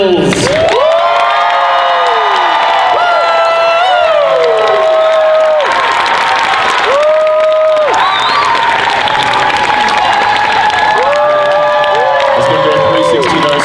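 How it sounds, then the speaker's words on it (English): Audience at the Friday night Dragon Con costume contest in Atlanta cheering, whooping and applauding for a winner, loud and sustained, with high shouts and screams rising over dense clapping. "And it's all voted from your applause"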